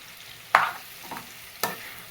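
Grated carrots for gajar halwa being stirred and fried in a pan, with a few distinct scraping stir strokes over a low, steady sizzle, close and fairly loud.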